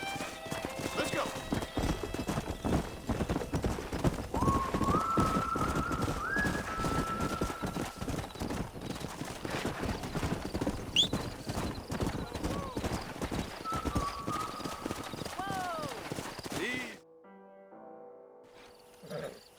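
Horses' hooves clip-clopping in the video game Red Dead Redemption: a steady, close trotting rhythm with a whinny and cooing birds in the background and some talk over it, stopping abruptly near the end.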